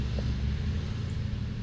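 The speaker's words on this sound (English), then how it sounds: "Some early morning construction traffic going by too." Early morning construction traffic rumbles past a front garden bed, a steady low drone of heavy vehicles at a moderate distance with no voices.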